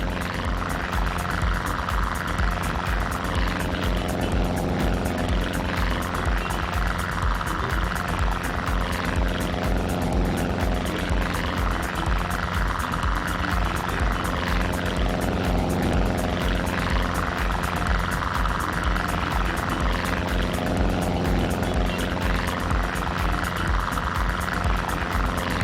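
A Miles Hawk Speed Six propeller aircraft at West London Aero Club runs steadily and loudly for the whole stretch, its engine drone and propeller beat continuous and close without any talk.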